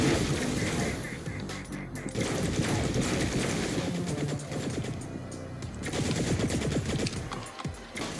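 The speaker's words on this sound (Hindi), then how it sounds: "तो मैं वन टैप भी फायर कर" Gunfire in Saints Row: The Third, with dense, continuous bursts of shooting and explosive clatter that stay loud throughout, overlaid with a player's voice talking.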